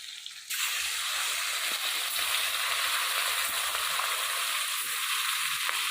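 Oil sizzling hard as fish fries in a home kitchen, a loud, continuous hiss that bursts in suddenly and holds steady throughout.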